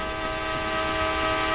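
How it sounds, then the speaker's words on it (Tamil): A train arrives at a busy city platform, giving a steady, loud drone with sustained horn-like tonal layers and no pauses. "ட்ரெயின் வந்துச்சா இப்போ தான் வருது."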